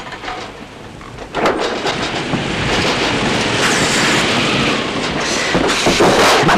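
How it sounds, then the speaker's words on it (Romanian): A staged storm of steady, loud rain with rolling thunder rumbles builds after a quieter opening and continues without pause, with no voices. "Facem o furtună, nu?"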